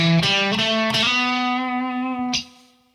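A distorted electric guitar plays a few single notes, each picked once and left to ring, the last note sustaining and fading out.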